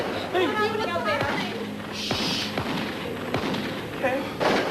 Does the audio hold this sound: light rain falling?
no